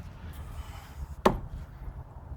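A Schrade SCHF43 knife chops into apple hardwood with a single sharp woody strike, close and distinct over a low steady background rumble.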